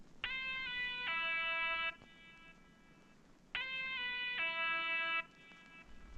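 A bright, buzzy synth lead in an FL Studio beat plays two short repeated phrases of sustained stepping notes, each lasting about two seconds with a pause between, clear and alone.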